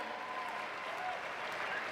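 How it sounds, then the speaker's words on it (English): Crowd at an amateur MMA fight night applauding the fighters after three rounds, a steady wash of clapping throughout with a faint hint of voices mixed in. "how about one more round of applause for these amateurs here?"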